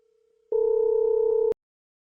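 A single telephone call tone from a 4G relay switch controller, model SM8-WLTE-EA. The steady, clear beep lasts about one second and ends abruptly, with faint tones before it.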